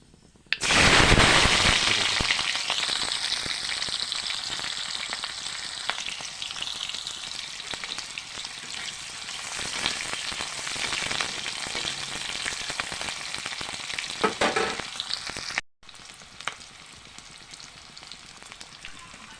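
Whole spices (panch phoron) sizzle loudly in hot oil for a duck curry, with a sharp burst of crackling at the start that settles into a steady fry, then a brief cutoff and a quieter continued sizzle.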